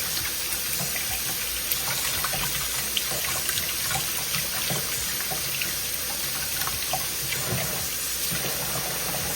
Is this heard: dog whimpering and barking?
no